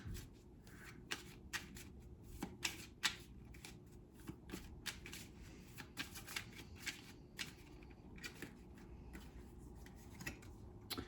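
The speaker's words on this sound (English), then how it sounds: "I'm going to draw a Romance Angel Oracle card." Romance Angel oracle cards shuffled by hand, a quiet run of quick papery riffles and soft card slaps in an irregular rhythm, close and with no talking.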